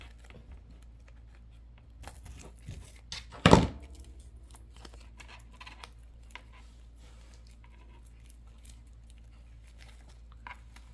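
Scissors snip once, sharply and close, cutting a tag off a bunch of flowers, with a few soft handling rustles around it and quiet stretches on either side.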